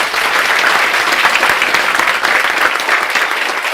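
A lecture-hall audience at an accounting class breaks into loud, dense applause, a close, continuous roar of many hands clapping at an even level from start to finish, with no voices over it.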